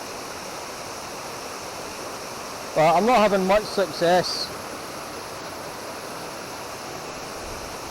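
The Water of Leith runs fast and high through Stockbridge, a steady broadband rush of river water with wind, constant and close throughout, with someone speaking briefly over it midway.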